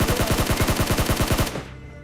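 Rapid automatic gunfire in the PUBG video game, a fast burst of about a dozen evenly spaced shots, loud and close, that cuts off abruptly into a low fading tail.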